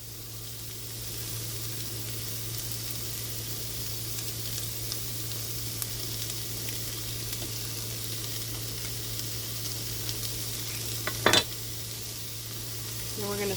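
Minced garlic sautés in a pan, giving a soft, steady sizzle over a low constant hum, with a brief louder scrape or clatter near the end and no talking.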